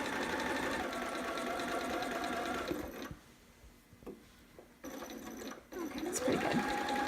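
A home sewing machine stitches the fabric of a romper, running steadily, pausing, then restarting in shorter bursts for back stitching, close and loud.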